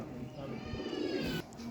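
A young teddy pigeon with a closed tail gives a short, soft cooing call up close while someone talks over it.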